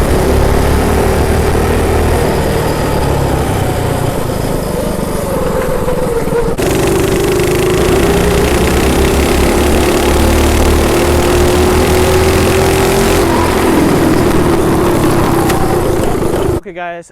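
Two Predator 212 minibikes race side by side, their small engines droning loudly and steadily, pitch climbing gradually through the run before the noise drops away at the end.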